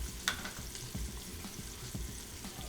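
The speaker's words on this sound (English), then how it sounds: "So we're going to let these onions cook down a little bit in the butter and bacon grease." Onions frying in butter and bacon grease in a pan: a steady, soft, close sizzle with a few faint stirring taps, heard alone.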